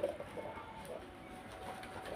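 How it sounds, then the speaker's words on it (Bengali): Soft coos from old-breed Giribaz pigeons at a pigeon market in Beldanga repeat a few times, faint and close, over a quiet background with no talking. "খুব সুন্দর কোয়ালিটির পায়রা আছে আজকে আমার কাছে"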